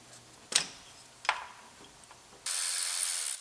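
Ratchet turning while unbolting the lower wiring harness on a Kia Sorento engine, two short clicking bursts close by, followed by a steady bright hiss of another tool or air.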